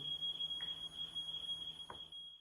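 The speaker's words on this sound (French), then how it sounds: "Le détecteur de fumée, il a capté, du coup, c'est bien sonné" A smoke alarm emits a continuous shrill, piercing tone that stays steady and loud across the whole stretch, with faint knocks in the background.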